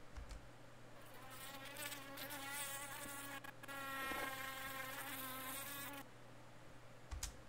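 A wasp's buzz, pitched up to mimic a mosquito, whines close by in a thin, wavering drone that rises and shifts over several seconds, then cuts off abruptly.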